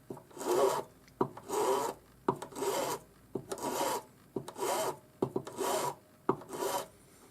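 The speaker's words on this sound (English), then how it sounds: "a little bit of masking tape on the ring, and still with the safe side of the file down" A hand file rasps across a metal hinged ring wrapped with a little masking tape, the file's safe side kept down, giving eight or so steady, even back-and-forth strokes, close and clear with short pauses between them.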